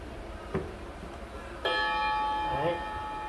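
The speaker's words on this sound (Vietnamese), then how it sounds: "Nghe chuông rất vang luôn." Chime of a Japanese pendulum clock with a concave glass face: after a soft knock, a loud bell-like strike rings out and sustains with long resonant harmonics, a second quieter tone following near the end.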